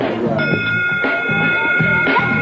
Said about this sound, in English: Every time a bell rings, another angel gets his wings.